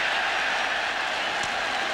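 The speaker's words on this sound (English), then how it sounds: "You can hear the cheer go up here at the stadium" A stadium crowd at a USC versus Notre Dame college football game cheers in a dense, steady roar of voices and applause that stays at an even level throughout.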